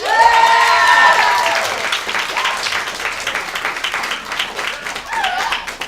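A high school poetry slam audience breaks into applause and cheers, loudest at the start and then easing into lighter scattered clapping, with voices speaking over it.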